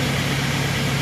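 Antonio Carraro TR7600 Infinity tractor engine running up toward its 540 PTO speed, a close, steady mechanical drone with a low hum throughout.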